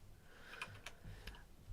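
Quiet typing on a computer keyboard during a Minecraft HermitCraft session, a few scattered soft key clicks, faint and close, with no talk over them.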